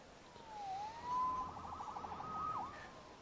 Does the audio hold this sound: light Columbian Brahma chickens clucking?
no